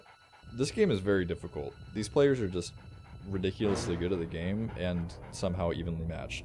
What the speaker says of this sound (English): Well, that's my dog.